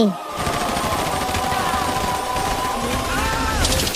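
Rapid bursts of gunfire in an animated Hindi cartoon story, a continuous rattling volley like a machine gun, loud and dense throughout, mixed with other cartoon sound effects.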